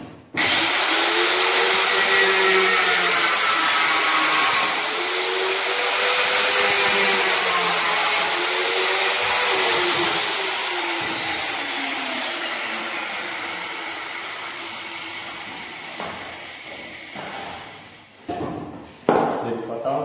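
A power tool cuts through wood for a homemade crossbow, a loud continuous whine with rising and falling pitch as the blade bites, easing off toward the end with a few clunks and handling knocks.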